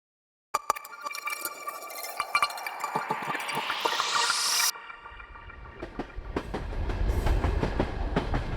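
Train running on rails on the long journey from Poland to Kyiv, with steady clickety-clack and rattling, a rising whine that cuts off midway, then a deeper rumble of the carriage rolling on, close and loud with no talk.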